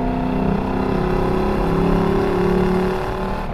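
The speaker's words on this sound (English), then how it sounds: "And then when the downshifts come with just a nice little burble and rasp." A 2021 Lexus LC500 convertible's engine and exhaust under way, a loud, steady, close drone with rising and shifting tones as revs change, heard alone without talk.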